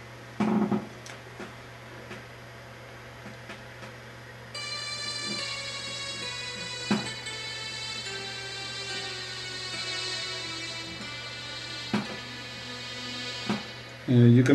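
Thin electronic synthesizer notes from an Arduino laser harp play through a headphone speaker, sounding tinny, one sustained tone after another with small clicks between changes and a low steady hum beneath.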